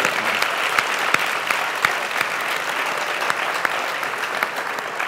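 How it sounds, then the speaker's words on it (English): Steady applause from a university audience at Florida A&M, dense clapping filling the hall at an even level with sharper individual claps standing out throughout. "Give yourselves a big round of applause."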